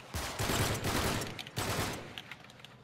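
Bursts of automatic gunfire from a firefight in Uncharted 3, loud and close, rattling in two rapid volleys with a short break between, then trailing off into scattered distant shots.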